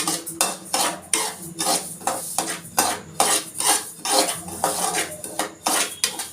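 Coarse semolina (rava) being roasted and stirred in a pan for rava kesari, with a spoon scraping and clinking against the metal in a steady, repeated rhythm, close and fairly loud, with no talking.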